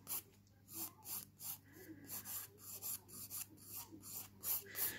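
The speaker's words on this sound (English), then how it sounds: "Just gently, you're not filing the nail away, you're just scuffing it." A white buffer scuffs a fingernail ahead of gel polish, a quiet close rhythmic rasping in short repeated strokes with brief gaps between them.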